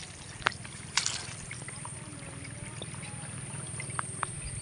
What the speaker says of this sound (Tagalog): pinadrain natin ang tubig. So kailangan maubos lahat ang tubig